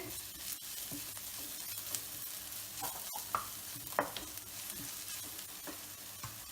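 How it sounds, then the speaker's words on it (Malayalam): Onion, shallots, ginger and garlic sauté in a pan for a beef and raw banana curry, giving a steady close sizzle with stirring scrapes and small clicks throughout, no voices. "സവാളയും ചെറിയ ഉള്ളിയും എല്ലാം നന്നായി വഴന്നു വന്നിട്ടുണ്ട്"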